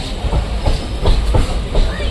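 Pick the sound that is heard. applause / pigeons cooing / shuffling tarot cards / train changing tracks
train changing tracks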